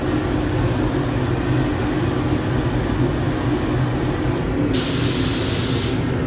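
Steady continuous hiss of a spray gun applying CX4 clear lacquer to a BMW M3 in a paint booth, a loud, even rush that brightens and intensifies near the end.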